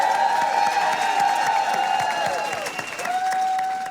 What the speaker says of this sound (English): let's give a round of applause to the current Supreme Court plaintiffs